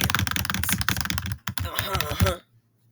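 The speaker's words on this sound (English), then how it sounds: "I'm going to type this in." Computer keyboard typing, rapid and close, with dense clattering keystrokes in quick irregular bursts that stop abruptly near the end.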